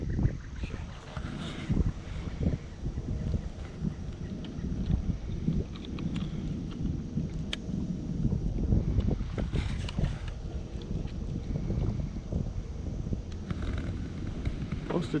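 Gusty wind buffets the microphone aboard a fishing boat on the Mississippi River, a steady rough rumble with occasional knocks and faint voices underneath.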